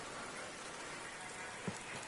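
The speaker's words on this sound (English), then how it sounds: "It is still very much raining." Steady rain hisses in Project Cars 2 during a wet FIA GT3 race at Brno, forming an even wash of noise with one small tap near the end.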